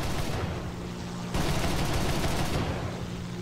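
Rapid aircraft cannon and machine-gun bursts from a Me 410 B-6/R3 in War Thunder, two dense sustained volleys of loud rattling fire split by a short pause.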